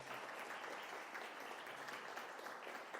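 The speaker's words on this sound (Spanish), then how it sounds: "Pido un aplauso también para Kevin, muy especial." A church congregation applauds for a visitor named Kevin during a sermon, a continuous, even roar of many hands clapping at moderate distance with no break.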